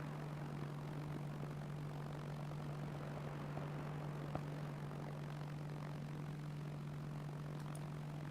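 Airplane engine in the military shooter game King of the Hill, a steady low droning hum with a constant tone, moderately quiet and unbroken, no talk over it.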